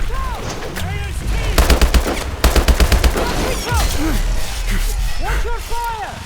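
Bursts of automatic gunfire and single shots in a Call of Duty: Advanced Warfare firefight, loud and close in rapid rattling volleys, mixed with shouted voices and combat effects.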